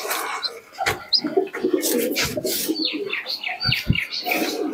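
Pakistani flying pigeons coo close by in a loft, soft throaty calls mixed with chirps and sharp clattering or wing-flap bursts, fairly loud and busy.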